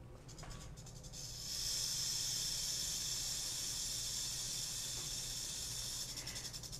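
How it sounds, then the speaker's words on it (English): A rattlesnake's tail rattle plays back as a recording: a sustained, fast, dry buzzing hiss that starts after a brief pause and holds steadily at a moderate level, with no talking over it. "when a rattlesnake is rattling its tail"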